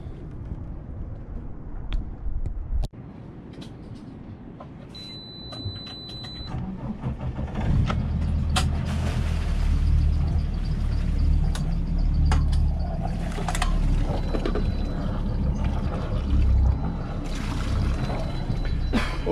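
A sailboat's engine starts and runs as the boat leaves on a passage in the Tuamotus at Tikehau, a loud low rumble settling into a steady drone after early clunks and handling noises.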